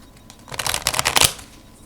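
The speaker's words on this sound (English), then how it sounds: "Now you can do some riffle shuffles." Playing cards riffle-shuffled once at close range during a card trick: a quick burst of crisp flicking pattering that lasts about a second and sits alone over quiet.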